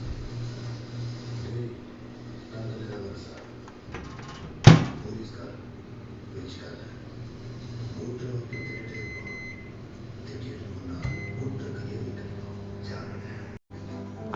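A single sharp thump of a microwave oven door shutting at a home kitchen, cutting through a steady low oven hum with softer background rustles before and after.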